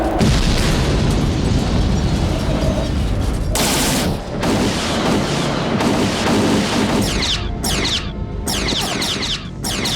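Loud sci-fi space battle with rapid bursts of blaster gunfire and booming explosions, dense and continuous, ending in a stuttering volley of separate shots.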